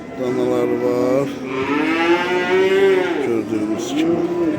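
Calves mooing at a livestock market, several loud, sustained bellows close up in quick succession, one following another with barely a break.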